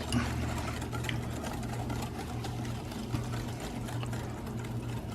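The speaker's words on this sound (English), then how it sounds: "mix in your sugar, and you want to whisk it in" Sugar whisked by hand into chocolate cake batter for a Mississippi mud cake, a steady fast whirring and scraping in the bowl with a low hum underneath.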